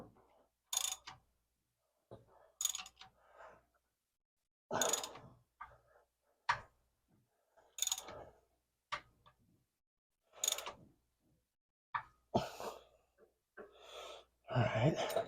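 Repeated short ratcheting clicks and creaks of a wrench tightening bolts on a Pontiac timing chain cover, close and in irregular bursts separated by silence, with faint breathing.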